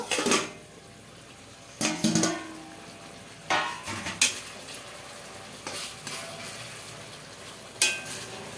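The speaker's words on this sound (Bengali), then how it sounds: "এবার ঢাকাটা খুলে নেব।" Doi katla, fish in yogurt gravy, in a covered pan, with several sharp metallic clanks of a lid and utensils against the pan over a low steady simmering hiss.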